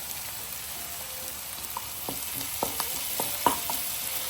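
Sliced onions with crushed ginger and garlic sautéing in a pan for a home-style chicken curry with coconut milk, giving a steady close sizzle broken by scattered spatula scrapes and taps, with no voices.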